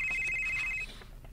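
A cellphone rings with a rapid, repeated electronic tone at moderate level, then stops partway through, leaving quiet room ambience.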